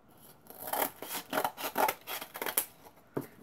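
Scissors snip through paper in a quick series of rasping cuts, close and fairly loud, with no talking.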